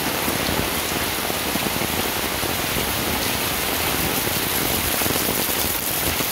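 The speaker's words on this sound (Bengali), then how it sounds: "বৃষ্টিটা হচ্ছে" Heavy rain pouring down steadily over a school field in Gazipur, Mawna, a dense, loud, even hiss of drops close by with no pauses.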